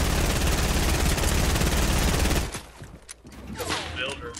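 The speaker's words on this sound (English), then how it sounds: "I'm getting shot in the back" Video game gunfire crackles in a dense, loud fusillade for a couple of seconds, then cuts to sparser scattered shots and clatter, with faint voice chat underneath.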